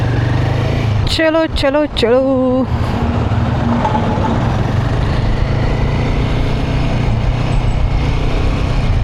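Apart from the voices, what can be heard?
motorcycle riding on a road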